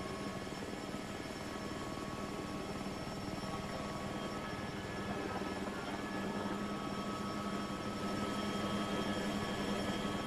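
AS350 helicopter engine in the Prepar3D flight simulator game, a steady loud turbine whine with rotor drone holding evenly throughout and rising slightly toward the end, no talking.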